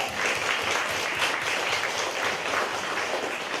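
Steady, dense applause from a church congregation at a Friday worship service, a continuous wash of many hands clapping together throughout without a break.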